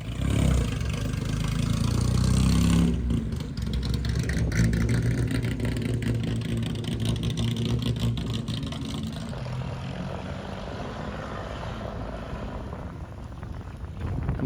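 Straight-piped Wildcat supercar engine on a concrete test drive, roaring loudly and continuously with a raspy low rumble that surges and settles as the car accelerates and cruises.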